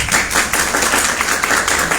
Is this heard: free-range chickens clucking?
no